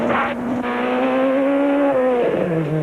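A 1992 Volkswagen rally car at speed on a stage, its engine droning steadily with rising and falling harmonic pitch, close and loud, with a brief tyre or gravel hiss near the start.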